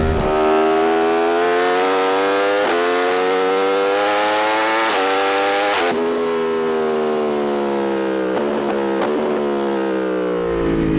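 A 2024 Yamaha R1 motorcycle engine revs hard while riding, rising in long climbing whines through several gear changes, loud and close with no talking.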